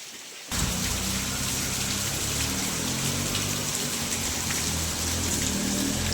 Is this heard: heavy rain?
yes